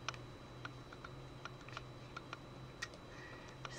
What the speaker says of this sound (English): we're gonna have to deal with this clicking camera for another few weeks